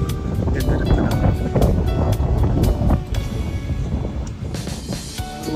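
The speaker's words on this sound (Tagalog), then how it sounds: "Windy nga pala ngayon, mahangin." Gusty wind roars across an open microphone outdoors in Galena, Alaska, a loud steady rush with buffeting thumps and a few faint background sounds.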